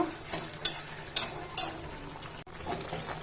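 Beef for kala bhuna is slowly stir-fried in a pot, with a soft sizzle underneath and a few sharp scrapes and clinks of a spoon against the metal, close and quiet, without voices.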